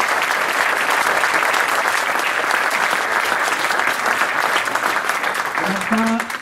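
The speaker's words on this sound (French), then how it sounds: "Donc quelques applaudissements aussi pour ça." An audience at a children's coaching event applauds with loud, continuous clapping that fills the whole span, then fades as a voice begins speaking at the very end.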